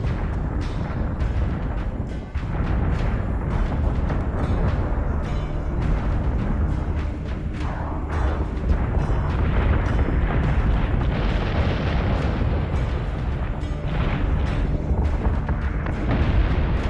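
Weapons fire and explosions keep coming in a Battlestar Galactica: Deadlock space battle. Heavy booms and sharp blasts pile up into a loud, dense wall of combat noise that lasts the whole time.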